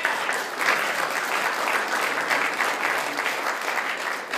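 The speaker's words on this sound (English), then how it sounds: "Give her a hand clap." A church congregation gives a short burst of applause at a morning worship service. The clapping is dense and steady and holds at an even level throughout.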